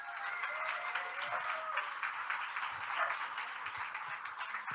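An audience applauds as a speaker is welcomed onto the stage at an outdoor celebration event, with steady, dense clapping that carries evenly through the whole stretch without voices.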